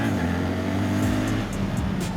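A BMW R1300GS motorcycle engine revs and pulls hard under acceleration, a loud steady drone with rising pitch toward the end and a few brief sharp accents.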